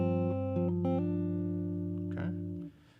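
Guitar plucking pattern on several strings, second pass with a hammer-on; several note changes ring out clearly before a soft fade, close up with no voices.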